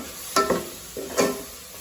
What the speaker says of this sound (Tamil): இப்போ இஞ்சி பூண்டு பேஸ்ட்டை போட்டு வதக்குவோம்